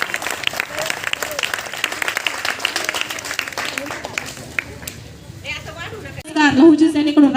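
Strong applause from a school audience at a Shiv Jayanti event welcoming a young girl ballad performer, dense clapping that thins out before a loud voice with music takes over near the end.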